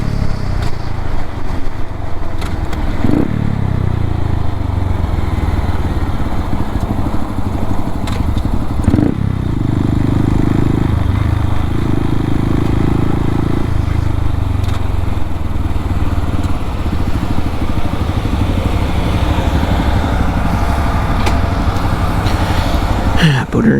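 A 125cc Honda Grom motorcycle being ridden, its small engine droning steadily and close, with wind buffeting throughout and brief shifts in engine pitch. Speech can be picked out faintly under the engine noise.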